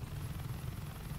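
Helicopter in the video game Saints Row 2, a steady low rotor thrum with rhythmic chopping pulses, continuous and moderately loud with no talk over it.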